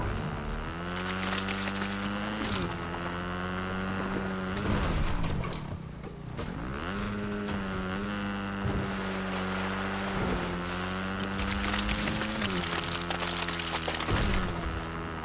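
A motorcycle engine in Fortnite drones loudly throughout, its pitch climbing and falling as it revs, with a brief dip in the middle.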